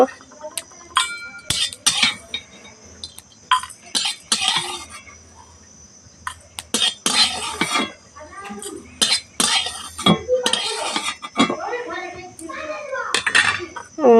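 Intermittent metallic clinks and scrapes of a utensil against a pan as fried eggs are lifted out, irregular and close, with a person speaking between the sounds.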